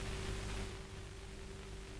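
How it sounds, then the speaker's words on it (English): Radio static in an audio drama, a steady faint hiss with a low hum running underneath, unbroken for two seconds, a little louder at first, with no voices. "Static noises continue for another 2 minutes."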